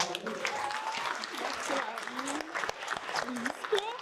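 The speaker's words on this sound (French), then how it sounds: "je vous demande de faire un tonnerre d'applaudissements" An audience at an entrepreneurs' cookie event applauds in a continuous, moderately loud wash of clapping, with people chatting and voices rising over it throughout.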